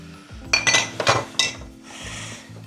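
Pan handled on a gas stove while cooking bacon, a few sharp metallic clinks and clatters, close and fairly loud, then a softer hiss and rustle with no talking.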